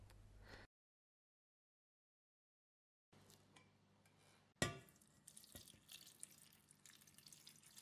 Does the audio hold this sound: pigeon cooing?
no